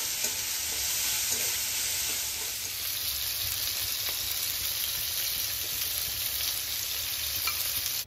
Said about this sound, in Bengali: মাছ এক কড়া ভাজা হয়ে গেছে, পরে করা মাছটা ভাজছি।